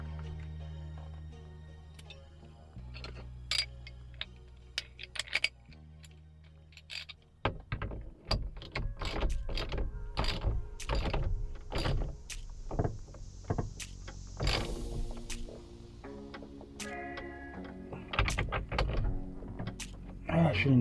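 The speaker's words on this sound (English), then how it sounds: "Steering wheel, I'm gonna bolt back on." Metal clanks, taps and ratcheting clicks from bolting a steering wheel back onto a 1985 Chevy C10 square-body short bed, a busy run of close, sharp knocks and rattles after a quieter start.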